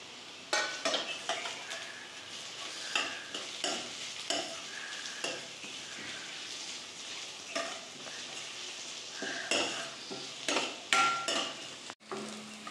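Onion and crushed garlic fry in oil for a whole masoor curry, with a soft sizzle beneath repeated scraping stirs and clinks of a metal spoon against the pan.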